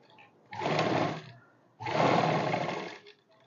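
Sewing machine stitching a kurti, running in two sustained bursts of a second or so each with a short pause between, fairly close and clear with no talking.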